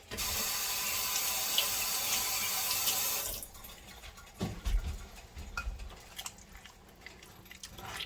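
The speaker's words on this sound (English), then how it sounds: "Wash your hands." A kitchen faucet runs in a steady close gush for about three seconds while hands are washed, then shuts off, followed by soft wet rubbing, squishing and a few handling knocks.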